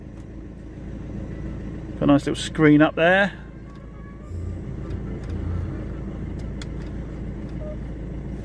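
Old Mercedes C220 CDI diesel engine idling with a low, even drone beneath a brief burst of close talk.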